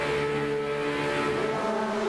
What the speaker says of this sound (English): the drivers now will get on the loud pedal. The revs will rise here.